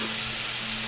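Meat for Philly cheesesteaks sizzles steadily on a hot griddle, a close, dense hiss with a faint hum underneath and no voices.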